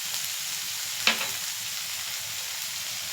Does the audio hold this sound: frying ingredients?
yes